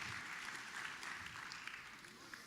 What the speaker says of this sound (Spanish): Dale un aplauso al Señor en esta tarde poderosa.